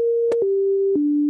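Randomized atonal MIDI synth notes in Ableton Live: a few steady sine-like tones stepping down in pitch, one note per beat, with short clicky attacks at each change, loud and alone.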